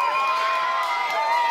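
At a female professional boxing bout, the crowd cheers and claps in a dense, continuous roar that fills the whole short moment.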